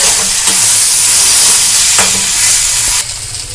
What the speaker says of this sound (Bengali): কষে রাখা ডালটা দিয়ে ভালো করে মিশিয়ে নেব